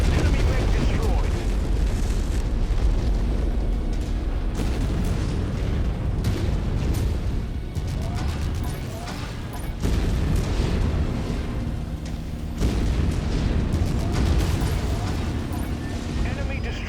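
A mech blowing up in Mechwarrior 5 combat, a loud, continuous roar of explosions and weapon fire with booming bursts throughout, while players talk over it.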